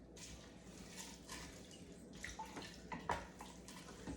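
Broth for a meatless lentil stew with tomato paste and spices is stirred in an Instant Pot, giving a steady soft liquid sloshing with a few small splashy clinks, close and continuous.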